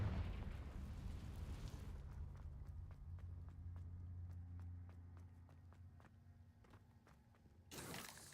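A Confringo blasting spell goes off deep inside a cave in a Harry Potter game, a heavy rumbling blast that fades over about two seconds into sparse crisp clicks before another burst flares up at the end.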